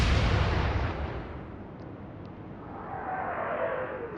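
Heavy warship gun salvo in the naval game Atlantic Fleet, set at the Battle of the River Plate: a loud booming blast that rolls off into a long fading rumble, followed by a faint whistling shell flight.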